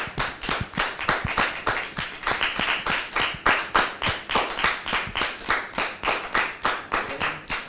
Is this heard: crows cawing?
no